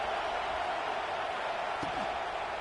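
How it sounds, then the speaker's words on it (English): Steady stadium crowd noise from College Football 26 in a Penn State versus LSU game, a constant fairly quiet wash of roar, with speech mixed in and one brief thump near the end. "This crowd bringing the energy and noise early."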